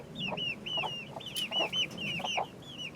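Farm chickens cluck repeatedly in a pen on a permaculture farm, with a steady run of close, rhythmic clucks and calls over a low murmur of background flock noise.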